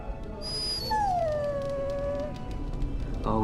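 A dog in the video game Dragon Age Origins lets out a single long, wavering whine that bends into a mournful howl, loud and close over soft game ambience.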